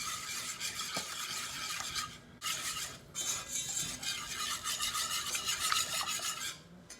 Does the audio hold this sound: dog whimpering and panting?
no